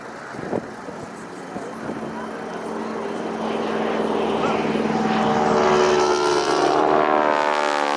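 A North American SNJ propeller warbird takes off at an airshow, its radial engine droning and swelling steadily louder as the plane builds power, with a rising propeller whine and faint background noise.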